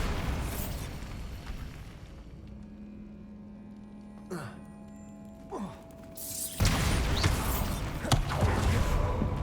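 A Bombarda explosive spell blast in Hogwarts Legacy, a loud burst with a booming crash and rumbling debris, followed by quieter creaking mechanisms and another heavy impact later, with a voice speaking briefly.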